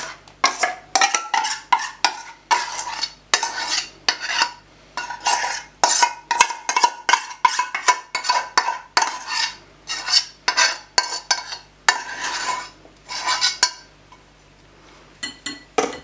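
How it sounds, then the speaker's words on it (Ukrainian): Melted dark chocolate with butter and condensed milk is stirred in a bowl for a cherry cake, making repeated close scraping and clinking strokes of a utensil in an irregular rhythm, quieter toward the end. "І гарно це все перемішую"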